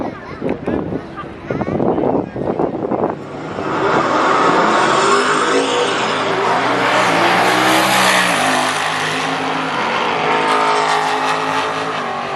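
A VMP supercharged car launches down a drag strip at an American muscle car show. The engine rises into a loud, sustained, roaring surge that fills the track, with crowd and talk audible beneath it at the start.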